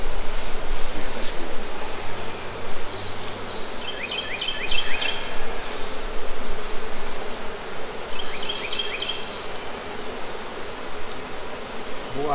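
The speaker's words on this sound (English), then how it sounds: "All right, bees, y'all behave." Bees around a hive brood box drone steadily in a thick, hissing hum, with a few higher buzzing passes drifting by close.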